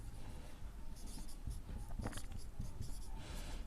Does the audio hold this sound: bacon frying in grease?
no